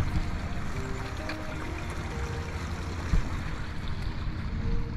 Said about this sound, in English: I love the sound of a babbling brook.